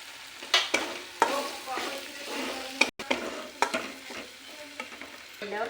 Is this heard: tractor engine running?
no